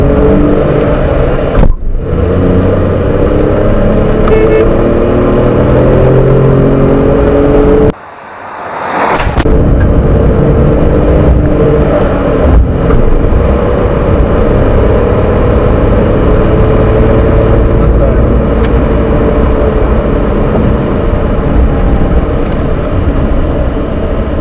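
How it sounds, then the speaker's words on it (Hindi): Tata Nexon accelerating hard in sport drive mode, with a loud, continuous engine drone and road roar inside the cabin that briefly drops away once, as if shifting gear, then builds again. No one speaks. "चलिए अब आपने देखा होगा कि इसका पिकअप काफ़ी शानदार है, काफ़ी जल्दी इसने 100 की स्पीड पकड़ ली थी।"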